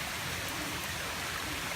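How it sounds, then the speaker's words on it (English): Dense, heavy rainfall from an approaching hurricane roars steadily in Jacksonville, Florida, a constant wash of drops with no pauses. "you can see it's just raining pretty hard."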